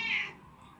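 A pet cat gives a single short, fairly quiet meow close by, a brief rising-falling cry that fades quickly into near silence.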